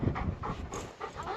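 A farm dog pants close to the microphone, with quick, rhythmic, breathy huffs repeating steadily and fairly loudly over a short stretch.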